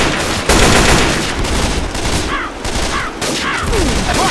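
Dense, continuous automatic gunfire in the video game Left 4 Dead 2, loud and close, with rapid overlapping shots filling the whole stretch without pause.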